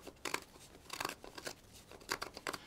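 A Victorinox Swiss Army knife shaves wood while carving a drinking cup, giving short crisp scraping cuts in uneven bursts, several close strokes with pauses between, and no talking.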